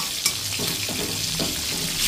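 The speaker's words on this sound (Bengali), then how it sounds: "আমি আরেকটা সাইডকে উল্টিয়ে ভেজে নিচ্ছি" Fish fry in oil in a wok for a Bengali fish kalia, giving a steady close crackling sizzle with a few soft stirring and turning sounds. No one speaks.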